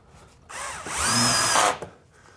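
A power drill drives a fine-threaded drywall screw into drywall for a soundproofed ceiling, one short whirring burst of just over a second that rises and then cuts off, close and alone.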